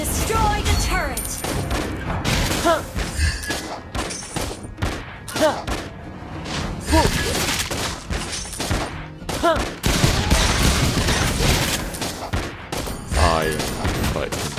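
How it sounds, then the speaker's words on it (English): Granger's guns fire in Mobile Legends in dense, rapid bursts of shots and booming impacts, loud and close amid battle effects and in-game voice announcements. "my crescendo of bullets! Legendary! Shoot!"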